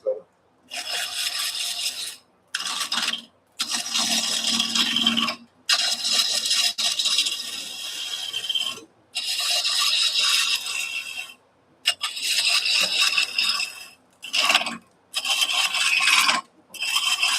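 A wood gouge rides the bevel against a spinning workpiece on a lathe, giving a steady, loud rasping scrape in long bursts broken by brief silent gaps.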